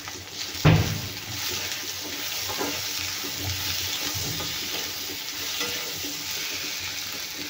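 Ten garlic cloves dropped into a hot pan: a sharp clatter at the start, then a steady, fairly quiet sizzle of frying with faint stirring throughout.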